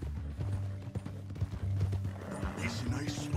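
Horse hooves clip-clop at a steady walking pace in Red Dead Redemption II, a captive being carried on horseback toward Saint Denis, with a couple of snorts and voices talking over the rhythmic steps.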